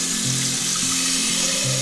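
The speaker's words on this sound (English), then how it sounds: "So we add some water." Tap water pours steadily into a cooking pot in a home kitchen, a continuous close rushing stream with a slight sizzle-like hiss throughout.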